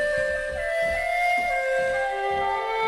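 Sequenced synth performance from the Evolver iPad app by 4Pockets, with a sustained flute-like lead layered over pulsing low synth notes in a steady rhythmic pattern, played alone at moderate volume.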